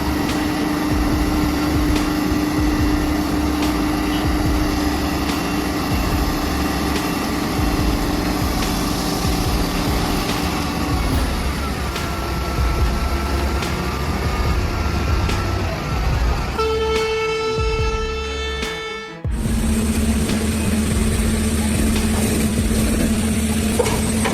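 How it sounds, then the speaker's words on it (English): A heavy off-road dump truck loaded with dirt labours up a steep slope, its engine droning loud and steady for a long stretch, with horn-like tonal blasts near the end and a sudden cut before the engine resumes. "A truck loaded with dirt was struggling to climb the steep slope. The engine roared hoarsely, the tires spun but in vain"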